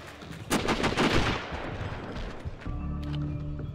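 Unsilenced rifle and gun fire in the Sniper Ghost Warrior video game, a loud cluster of sharp shots near the start followed by a fading echo, then a low steady game hum.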